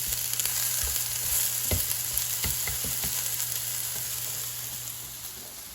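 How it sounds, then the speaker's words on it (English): Eggplant sautéing in a pan, a steady close sizzle broken by a few clinks and scrapes as it is stirred, with no talk. "just again keep an eye on it and keep mixing and cooking"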